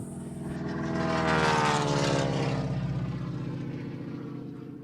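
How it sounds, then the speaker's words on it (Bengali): A small propeller motor on a toy airplane whines steadily, swelling louder as it passes close, then easing off slightly; no voices. "এই বিমানটি এখনো ভালো আছে এবং এটা উড়ছে"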